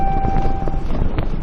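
An RV's faulty anti-lock brake (ABS) warning chime sounds as a steady electronic tone for under a second, then stops, over rumbling wind and road noise while driving in a desert.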